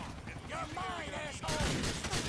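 Gunfire and chaotic game effects from a GTA IV police chase fill the mix, with warbling siren-like tones, then a burst of loud, dense shooting and impacts toward the end.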